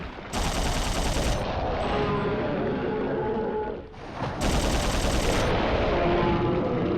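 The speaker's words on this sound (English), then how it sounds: "Oh, the machine guns are so fucking cool." Machine gun fire in the video game Dino Crisis 2, a loud, continuous automatic burst that dips briefly and then resumes at full intensity.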